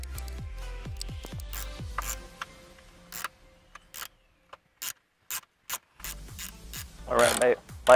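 Wrench ratcheting on the loose lower nut of an upper engine mount on a 2003 Dodge Neon 2.0L: a run of close clicking ratchet strokes, then pauses broken by short isolated clicks, and a final burst of clicking.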